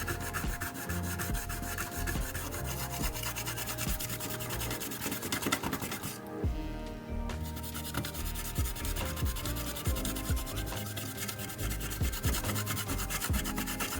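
A green Scotch-Brite pad scrubs back and forth against the pad of a 1974 Williams Star Action pinball ball count unit, giving steady close rasping strokes that pause briefly midway.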